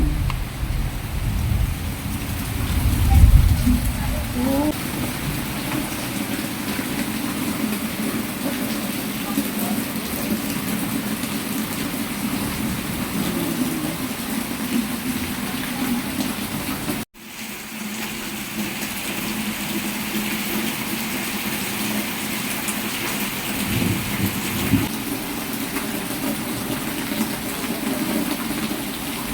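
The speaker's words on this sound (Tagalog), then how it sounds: "ulan na umaga. Parang ulan." Steady morning rain pouring without pause, with low rumbling that suggests distant thunder, a loud, dense wash lasting throughout with only a brief cut midway.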